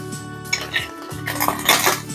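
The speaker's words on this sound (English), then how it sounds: "Now I'm going to sear my tiger shrimps that have been deveined and shelled." Tiger shrimp, deveined and shelled, meet a hot frying pan with clinks and knocks of pan and utensils, over a sizzling hiss that swells in the second half.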